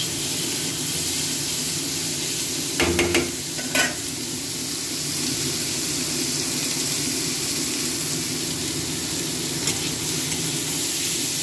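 Beans sizzle loudly in a frying pan in a home kitchen, a continuous close hiss broken by a few sharp scraping clatters of stirring early on, with no voices.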